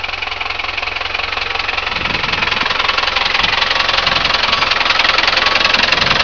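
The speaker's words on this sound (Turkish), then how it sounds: "mısırların etrafındaki otları traktörle temizliyor" A tractor engine clearing weeds in a cornfield runs close by with a loud, steady knocking rumble that grows slightly stronger as it continues.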